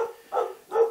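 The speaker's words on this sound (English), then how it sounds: "sorry about my dog barking in the background." A dog barks twice in the background, each bark a short, mid-pitched burst about half a second apart, fairly faint and alone without talk.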